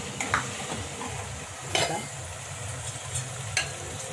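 Peanuts and spices sizzle in a hot pan for vegetable basmati pulao, with steady frying hiss and a few sharp scraping stirs of a spoon against the pan, close and clear.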